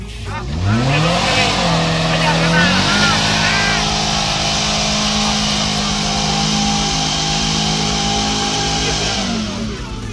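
An off-road car engine revs hard on a rough track. Loud rising whines give way to a sustained, throbbing drone, and voices call out over it.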